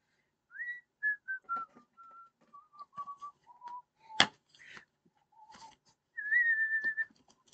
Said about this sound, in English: Shall I hum the tune or whistle the tune that features the bird?